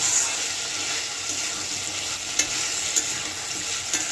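Water rushes steadily into potato curry cooking in a pan over a low flame. The hissing pour is loud and close, with soft clinks and sizzle under it and no talk.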